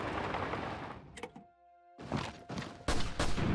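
A tank fires in a Spanish Civil War mod of a Total War game, with a hollow thunk and then several loud booming blasts in quick succession near the end.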